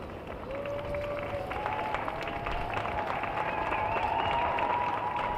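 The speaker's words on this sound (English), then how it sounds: "We can hear the applause." Applause from the crowd at the Biden-Harris presidential inauguration sounds as a steady, distant wash of clapping that holds at an even level throughout, with faint tonal sounds drifting over it.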